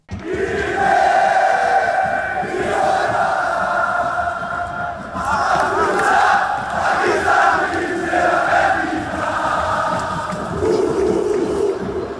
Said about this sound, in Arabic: اللعيبه دخلت تتمرن لقوا الجمهور بيهتف الارض دي لليهود وللصهاينه